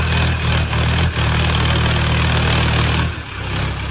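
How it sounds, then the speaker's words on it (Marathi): Tractor engine running close by, a loud steady low chugging drone with slight dips in level, no voices over it. "तर किती आवाज येतो ट्रॅक्टरचा."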